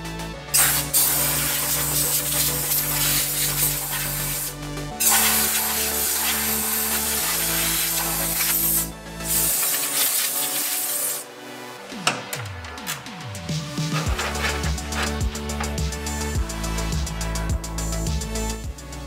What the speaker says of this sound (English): Cleaning the radiator grill. Cleaning the cooler.